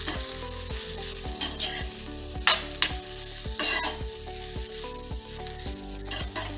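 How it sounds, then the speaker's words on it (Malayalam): Chicken stirred into a masala filling in a hot frying pan for Kerala-style meat pathiri, with steady sizzling under repeated scraping strokes of a spoon and a few louder clanks against the pan. "നമുക്കിതേക്ക് നേരത്തെ പിച്ച് വെച്ചിട്ടുള്ള ചിക്കനും ചേർത്തെടുത്തൊന്ന് നന്നായി ഇളക്കിയെടുക്കാം"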